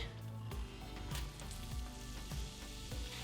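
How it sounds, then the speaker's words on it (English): Onion and garlic sauteing in a pan, a steady close sizzle and fry with a few soft stirring scrapes, no talking. "we'll go ahead and saute this all up nice"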